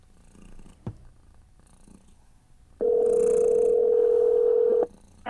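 Ringback tone from a call to a 24-hour diner plays through a Sony SRS-XE300 speakerphone at maximum volume. A faint click comes first, then one loud, steady electronic tone lasts about two seconds, with no talking.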